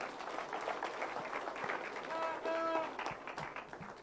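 An audience at a cancer survivors' day event claps for a speaker, scattered clapping mixed with crowd murmur and voices talking over it, with a brief tonal sound partway through.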